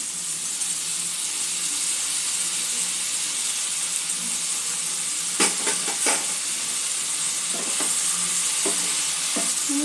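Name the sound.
spiny gourd stir-frying with ginger paste and spices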